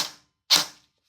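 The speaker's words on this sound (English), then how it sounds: "I'm going to shoot on semi" A Jefftron Scylla ETU airsoft gun fires two single shots on semi-auto, each a sharp, close crack, spaced about half a second apart with silence in between.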